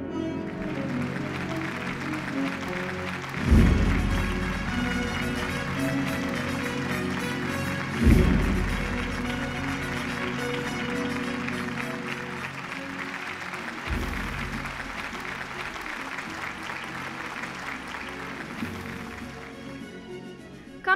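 An awards-ceremony audience applauds steadily for the full stretch, with a few louder bursts of clapping and thumps in a large hall, and no one speaking over it.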